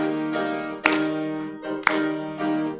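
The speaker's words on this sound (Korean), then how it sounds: "우리 박수 치면서 주와 같이 길 가는 것 찬송하겠습니다" A church congregation sings a hymn together during a Sunday service, with two sharp, loud hand claps ringing out about a second apart over the sustained singing.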